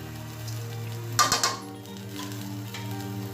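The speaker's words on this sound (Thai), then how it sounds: "จากนั้นใส่ตาลลงไปครับ ตามด้วยกระเทียมเจียวนะครับ" Palm sugar and fried garlic dropped into a hot pan while frying fish, a short burst of sizzling and clatter rising over a steady low frying hiss, close by.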